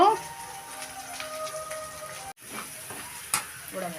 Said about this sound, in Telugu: ఎగ్ ఫ్రై అయిపోయిందండి బాగా